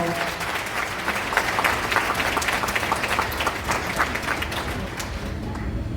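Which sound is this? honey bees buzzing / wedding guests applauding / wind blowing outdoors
wedding guests applauding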